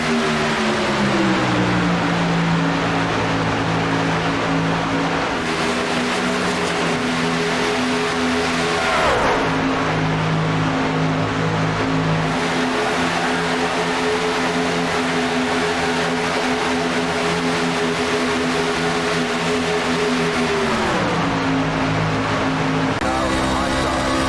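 A Chevy Silverado race truck in a racing video game at Daytona International Speedway holds a loud, sustained engine roar, with two clear gear-change drops and recoveries partway through.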